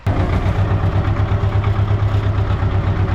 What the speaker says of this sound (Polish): Teraz zobaczymy jak się to weźmie ciągnikiem